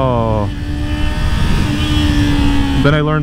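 Kawasaki Ninja 400 motorcycle engine, loud and close, with a steady droning tone shifting pitch as it revs and accelerates, gear changes at the start and end, while a rider talks over it.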